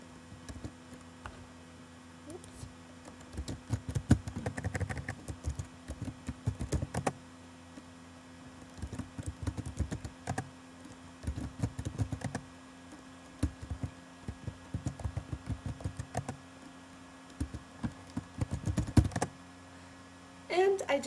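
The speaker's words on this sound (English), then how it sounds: "the goal of the game is to type in the correct answer as fast as possible" Rapid bursts of typing on a computer keyboard as answers are entered in a vocabulary typing game, close-up clatter in irregular clusters with short pauses, over a steady low hum.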